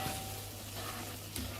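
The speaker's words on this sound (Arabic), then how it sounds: "بعد ما ذاب الزبد عندي راح احط طحين" Flour cooks in melted butter in a pot as the base for a white soup, giving a low, even sizzle with a faint stir or scrape near the end.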